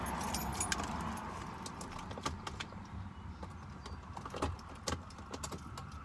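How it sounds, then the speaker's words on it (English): A bunch of car keys jingles and clinks close by inside a car, with quiet rustling in between and several sharp metallic rattles scattered over a few seconds. "Grab my keys."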